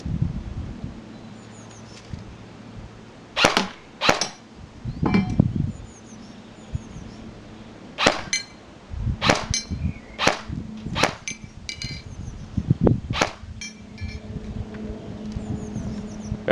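A Classic Army MP5 A5 airsoft gun firing from slightly behind the camera at steel plate targets outdoors, sharp isolated snapping shots spaced a second or more apart, some followed by faint metallic pings.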